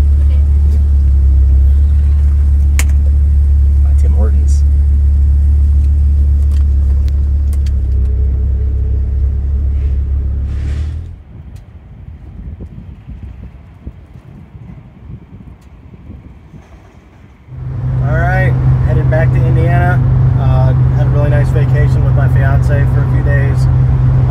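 A 25-year-old car pulls away from a fast-food drive-through window, its engine rumbling loudly and steadily close by, easing off into quieter road noise before rising again as it accelerates, with wind buffeting the microphone.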